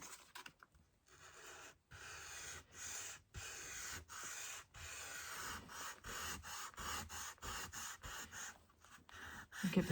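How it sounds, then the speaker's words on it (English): A resin lazy susan is sanded by hand with 220 grit sandpaper, giving repeated close, raspy back-and-forth strokes broken by brief pauses, with no talking. "Now let's run across it with a sandpaper. This is 220 grit."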